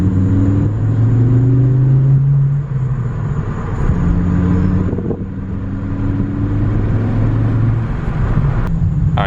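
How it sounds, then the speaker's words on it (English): A Volkswagen Golf R engine breathing through a GTI MagnaFlow exhaust pulls hard under acceleration, a loud continuous droning rumble with rising and falling pitch sweeps as gears change, heard steadily from inside the car. "So this is I think he said it's a GTI MagnaFlow exhaust"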